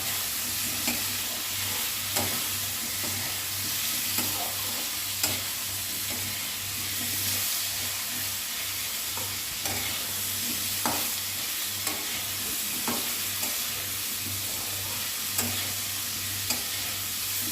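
Moong dal frying in a pan, a steady low sizzle with scattered scraping clicks of a spoon stirring it, close and fairly quiet throughout with no talk.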